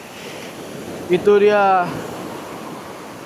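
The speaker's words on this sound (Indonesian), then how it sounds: "Dengan ombak yang begitu besar" Big ocean waves on the West Sumba coast, a constant roaring wash of surf mixed with wind, with a short spoken exclamation in the middle.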